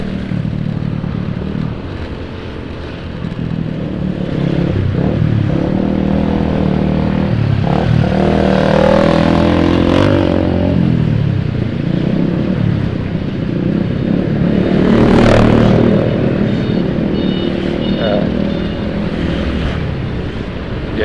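A Honda Beat scooter engine drones steadily while riding on a rough, stony road, buffeted by wind noise, with the pitch rising and falling as it speeds up and slows.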